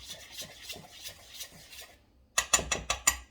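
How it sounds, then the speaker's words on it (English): Dry biscuit ingredients for buttermilk biscuits are stirred together in a bowl, producing rhythmic scraping strokes that turn into a brief run of sharper, louder rasps near the end. "I'm going to mix these dry ingredients together like this, so that they're all mixed."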